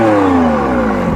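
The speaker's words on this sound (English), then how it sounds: "It's certainly loud, but the engine just doesn't sound as good as that in the Ferrari 296." McLaren Artura with the optional sports exhaust revving loudly, a brief, close engine note sliding steadily downward in pitch with no voices over it.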